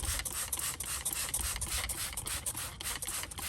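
A spray bottle of water mixed with Windex is pumped onto a car headlight in a quick run of soft, close hissing spritzes, quiet and evenly repeated.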